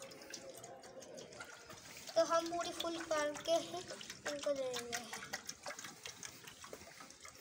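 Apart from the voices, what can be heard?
hot water from a geyser poured into a container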